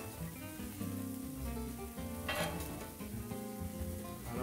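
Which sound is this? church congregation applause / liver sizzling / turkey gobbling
liver sizzling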